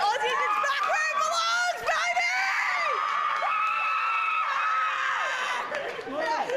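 A crowd at a welcome home celebration screams and cheers loudly and continuously, with many high overlapping voices shrieking and whooping close by, and some talking mixed in.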